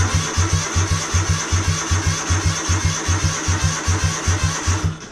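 Kohler V-twin engine fitted with a new, bigger exhaust pipe, idling loudly in cold weather with a steady, lopey pulsing thump and a constant roar, close and uninterrupted.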